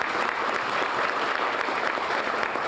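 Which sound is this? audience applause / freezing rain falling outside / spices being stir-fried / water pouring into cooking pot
audience applause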